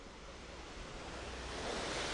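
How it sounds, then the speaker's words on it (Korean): Jeongbang Waterfall on the Jeju coast pours straight into the sea beside waves, a soft, steady broadband rush that swells slightly louder toward the end, with no voices. "이렇게 해안가로 바닷가로 직접 떨어지는 폭포를 보니까"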